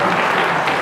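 A roomful of elementary school pupils claps in a brief, loud, even round of applause at an Islamic school gathering, with no voices breaking through.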